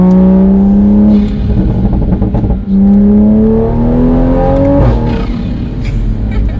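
A tuned Toyota Supra A90 accelerates hard from the inside, its engine note climbing loudly through one gear, a brief drop at a shift, then rising steadily again.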